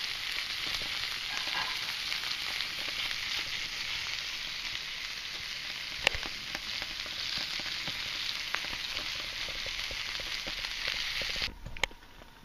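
Pork chops sizzling in a covered pan on a rocket stove, a steady close crackling hiss with scattered pops and a sharp clatter near the end.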